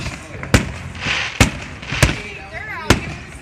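A city fireworks show bursts in four sharp, loud explosions spaced roughly a second apart, with crackling and a faint whistle between them.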